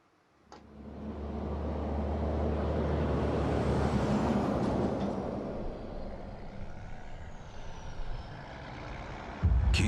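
Heavy trucks rumble and drive past in a steady, loud roadway wash lasting several seconds, with a brief hiss-like burst at the end.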